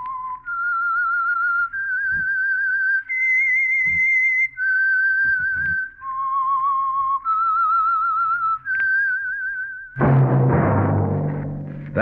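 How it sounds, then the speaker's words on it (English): A lone human whistler performs the theme signal of the 1947 radio drama The Whistler, a clear, loud, wavering melody of sustained notes rising and falling, ending as a burst of orchestral music takes over. "That whistle is your signal for the Whistler."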